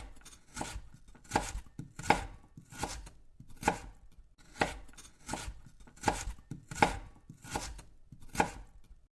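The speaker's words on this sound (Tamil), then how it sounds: "வெங்காயம், தக்காளி இதெல்லாம் கட் பண்ணிகிட்ருந்தேன்" A knife chopping onions and tomatoes on a cutting board, about a dozen evenly spaced sharp chops in a slow steady rhythm, close and clear with no talking.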